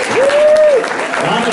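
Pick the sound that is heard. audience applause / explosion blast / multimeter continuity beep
audience applause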